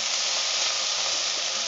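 Onion and garlic mixture sizzling in a hot pan, a steady, fairly quiet hiss with no voices.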